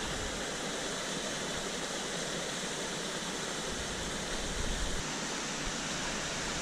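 Steady, full roar of St Columba Falls, a waterfall in lush Tasmanian rainforest, continuous broadband rushing water at close range with no pauses.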